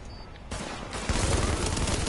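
Gunfire in The Division, a dense burst of shots swelling after a quiet opening and holding loud and close through the rest, with no talk.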